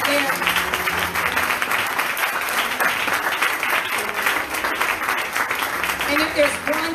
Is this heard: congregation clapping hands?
yes